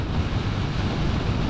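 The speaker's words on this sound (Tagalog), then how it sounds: "Kaya lang lakas ng hangin." Heavy, continuous wind buffeting a microphone on a motorcycle ride along a road, a loud low roar that masks everything else, with no speech.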